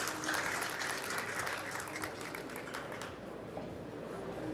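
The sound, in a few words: arena crowd clapping at Las Vegas tournament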